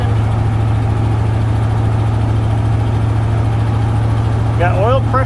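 A van's engine idles steadily just after coming out of storage, a loud continuous low rumble throughout, with a brief voice near the end.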